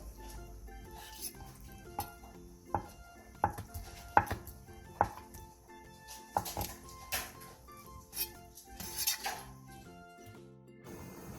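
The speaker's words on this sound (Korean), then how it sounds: "두부 조금도 먹기 좋은 크기로 큼직하게 잘라주세요." A knife cuts tofu into large chunks on a cutting board, producing a dozen or so separate, irregular thunks with short pauses between them, close and fairly crisp.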